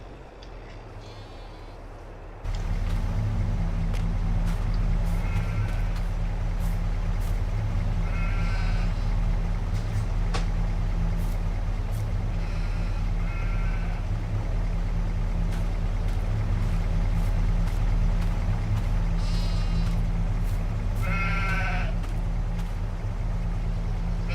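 Several sheep bleat intermittently in the video game Farming Simulator 22 over a constant low engine-like drone, the wavering calls rising above the steady hum.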